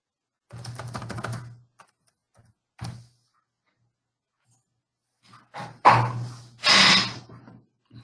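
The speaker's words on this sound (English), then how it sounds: "So let's type that in." Computer keyboard typing in short separate bursts with quiet pauses between them, close and fairly soft, with no talking.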